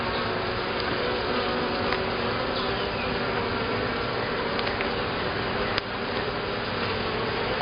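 Honeybees buzz in a dense, continuous swarm drone during a hive inspection, close and steady, with occasional soft clicks of handling beneath the hum.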